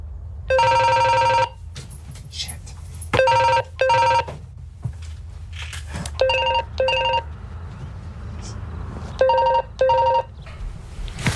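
Telephone ringing in bursts of a bright electronic double ring, several separate rings spaced a second or two apart, loud and clear over a low room hum.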